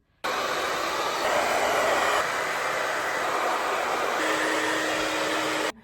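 A hair dryer with a diffuser attached, set to warm and low, switches on abruptly and blows with a steady broadband whoosh for about five seconds before cutting off, close and alone.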